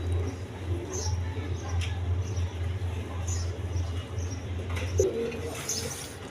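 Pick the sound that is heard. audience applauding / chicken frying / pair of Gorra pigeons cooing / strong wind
pair of Gorra pigeons cooing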